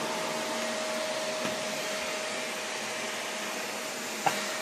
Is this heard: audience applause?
no